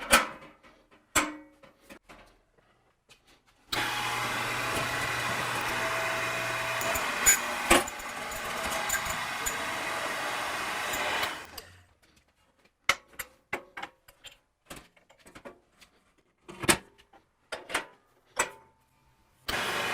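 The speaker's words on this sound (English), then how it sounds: "Now I can go to the press and use the punch and flare dies to make the holes." Hydraulic press driving punch and flare dies through steel for a welding cart: a sustained motor hum with sharp impacts, followed by a string of scattered clanks and knocks from the shop.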